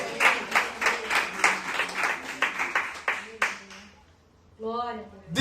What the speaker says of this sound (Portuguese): aplauda o Senhor com o seu melhor